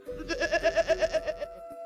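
A goat bleats in one long quavering cry, about ten rapid wobbling pulses over roughly a second and a half, close and clear with no other sounds.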